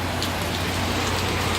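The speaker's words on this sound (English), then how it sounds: "the sky opened up in a matter of 5 seconds to a heavy downpour" A sudden heavy rain downpour pours steadily, a dense, even hiss of water striking surfaces close by, with no voices over the constant wash.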